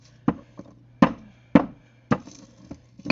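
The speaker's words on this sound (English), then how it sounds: "mash it, grind it" Herbs being mashed and ground into a powder by hand, about six sharp thumping strikes at an uneven pace, close and clear with quiet gaps in between.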